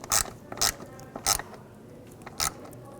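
Ratchet wrench tightening front seat bolts inside a 2021-2023 Jeep Grand Cherokee L, heard as four short, close clicking bursts spaced unevenly with quiet gaps between, no talking.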